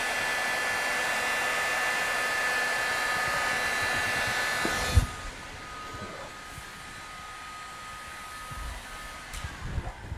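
A heat gun blows a loud, constant hot-air hiss while heating vinyl wrap on a car body panel, then cuts out partway, leaving a quieter hum and a few soft knocks.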